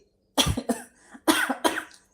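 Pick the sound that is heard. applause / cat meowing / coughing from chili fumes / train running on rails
coughing from chili fumes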